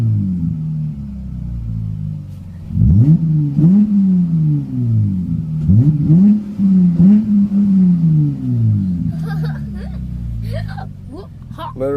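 A 2017 Dodge Charger SXT fitted with an Injen X-Pedal Pro gives several short, loud engine revs close up, each a quick rise and fall in pitch, spaced a second or two apart.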